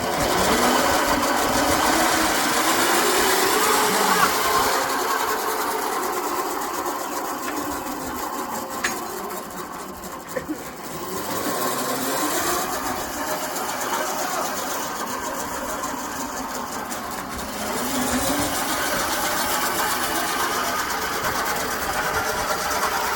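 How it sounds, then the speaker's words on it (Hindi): A homemade electric tractor's motor runs continuously, a steady whirring drone that rises and falls slightly in pitch as it is driven, loud and close with no talk. "देखो मोटर घूम रही है।"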